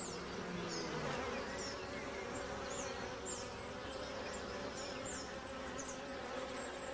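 Honeybees fly around their hive, a steady dense buzzing swarm with individual bees zipping past close by.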